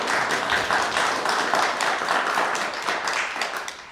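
A small audience claps after a child's poem, brisk scattered applause lasting a few seconds before tapering off.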